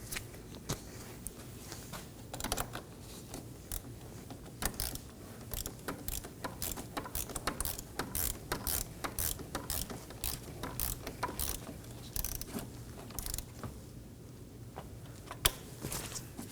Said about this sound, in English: Push down and snug it down using a 10mm.